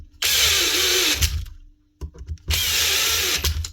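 Power tool driving screws into the motor plate of a Paslode IM350+ nail gun, two close, loud whirring bursts separated by a short pause with a few light mechanical clicks.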